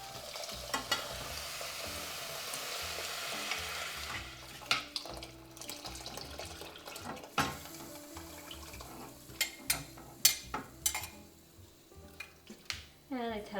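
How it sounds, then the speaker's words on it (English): Rice mixed with spices and a little salt in a hot pan: scraping stirs and clacking utensil knocks over a steady sizzle, growing busier and louder partway through, with sharp spoon taps near the end. "Mix the rice with all these spices right there."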